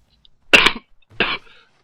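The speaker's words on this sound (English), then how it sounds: "there's that cough I mentioned earlier" Two sharp coughs from one person, close to the mic, about half a second apart, the second a little shorter, with silence around them.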